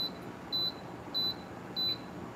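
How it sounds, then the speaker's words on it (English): Toaster oven timer beeping while baking macarons: three evenly spaced, high electronic beeps, each about a fifth of a second long, over a quiet room hum with no talking. "When the timer goes off on this thing, the whole thing shuts off."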